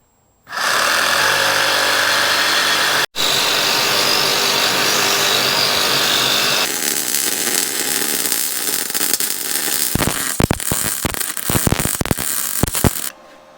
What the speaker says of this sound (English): Solid steel that I'm going to cut and weld on the back.